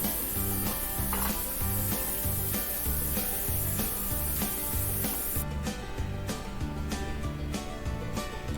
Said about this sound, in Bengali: তেল গরম করে দিয়ে দেব কেটে রাখা আলু। আলুগুলোকে খুব হালকা করেই ভেজে নেব